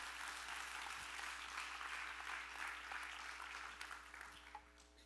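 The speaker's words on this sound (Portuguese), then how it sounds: "Dê um aplauso bem forte a Deus." Applause from a church congregation during a Portuguese-language sermon, a dense wash of clapping throughout, faint and distant over a low steady hum, fading slightly toward the end.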